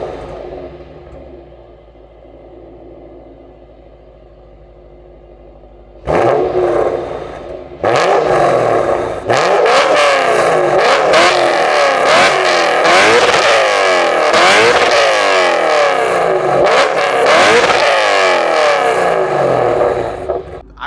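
Lexus RC F V8 with a custom exhaust fires up after a quiet idle, settles into a loud rumbling idle, then blips through a string of sharp revs building to big, roaring full-throttle revs, close and with no talk.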